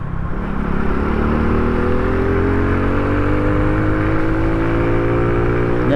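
Small 50cc cafe racer motorcycle engine riding through traffic, a steady buzzing drone whose pitch rises smoothly as it accelerates through a gear, close and constant with wind noise.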